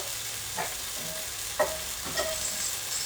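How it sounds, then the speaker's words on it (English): Onions cooking slowly over medium heat in a pan for chicken biryani, a soft steady sizzle with a few brief stirring scrapes, quiet and close, no voices. "Alright, so there's we're adding the onions in."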